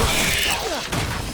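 Confringo spell blast in the Hogwarts Legacy video game, a short burst of crashing, whooshing impact noise with a falling tonal sweep, loud and over almost at once.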